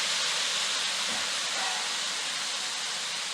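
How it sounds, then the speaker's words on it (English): Vegetables for Guyanese chow mein steam in a pan after a splash of water, giving a steady, loud broadband hiss that holds evenly throughout with no other sounds. "We're going to add just a little bit of water because we're actually going to steam these vegetables."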